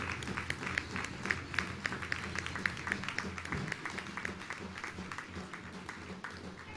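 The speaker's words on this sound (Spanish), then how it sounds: "un aplauso para la compañera Boni." Audience at a large rally marking the 70th anniversary of Eva Perón's death claps in a steady, dense round of applause, broad and even throughout, with a brief low thump partway through.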